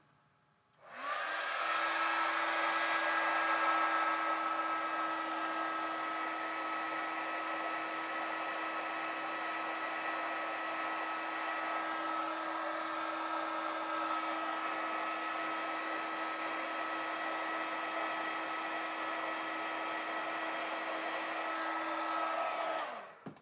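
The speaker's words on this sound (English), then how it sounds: "Because my heat gun was already warmed up from before, it didn't take quite as long to emboss" A heat gun embossing a stamped card, a steady loud blowing whir with a constant motor hum that starts abruptly and runs unbroken for over twenty seconds before cutting off.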